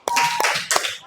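Children clap in a classroom chant during a second-grade Islamic studies lesson, two or three sharp bursts of claps spaced across a second, fairly loud and close, with no voice heard.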